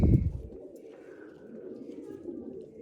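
Large pigeons sit and coo softly nearby in low, rolling calls, following a brief louder burst at the start, while faint voices are heard in the background.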